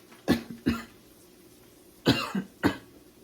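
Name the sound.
cough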